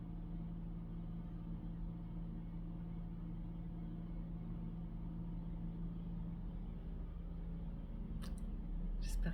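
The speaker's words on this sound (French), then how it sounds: "Ah, ça doit être les camions poubelles." A garbage truck passes along a city street, its engine a low, steady rumble at middle distance that slowly swells near the end, alone without talk.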